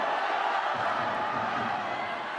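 Batley rugby league fans cheer from one end of the ground at a 2010 NRC final against Widnes, a steady roar of crowd noise sustained throughout, heard from a distance.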